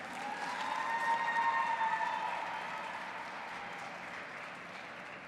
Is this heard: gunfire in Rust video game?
no